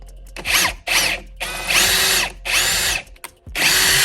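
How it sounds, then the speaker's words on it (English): A power drill drives into two pieces of wood while building a 41-quart snake rack, heard up close as five loud whirring bursts separated by short pauses, with no talking. "I'm just a light drill. Once I feel that I connected through both pieces, I back out."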